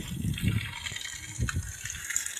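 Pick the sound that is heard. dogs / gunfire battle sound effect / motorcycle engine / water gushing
water gushing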